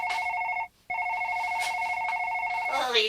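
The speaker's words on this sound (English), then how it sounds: "The phone's ringing." A telephone rings with a steady electronic tone, two ring bursts separated by a short pause, fairly clear and close, with a brief voice-like sound at the very end.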